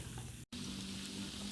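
Fermented cassava tape frying in hot oil gives a steady soft sizzle throughout, broken by one very brief dropout near the start.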